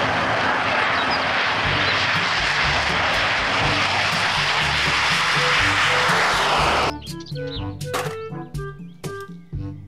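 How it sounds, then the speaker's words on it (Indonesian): A toy fighter jet plays a loud, continuous recorded jet-engine roar for several seconds, close and steady, then cuts to short electronic beeps and tones. "Pesawat jet tempur."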